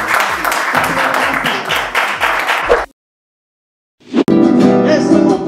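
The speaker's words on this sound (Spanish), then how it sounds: "Así que un aplauso para ellos." Audience applause at a 2019 event in Chile, a lively burst of clapping that cuts off abruptly into about a second of silence before louder, music-like sound begins.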